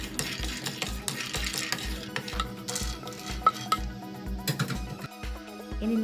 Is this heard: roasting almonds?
yes